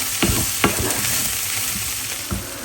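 Rice fries and sizzles in a pan for an oats khichuri, with a steady hiss broken by a few sharp scraping stirs of a utensil, close and fairly loud, no voices.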